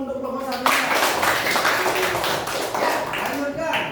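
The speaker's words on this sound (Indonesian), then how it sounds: "Tepuk tangan dulu untuk kelompok 1." A classroom group applauds a group of students during a Hindu religious education lesson in Indonesia. Dense, steady clapping starts suddenly right after a short spoken phrase and continues loudly for several seconds.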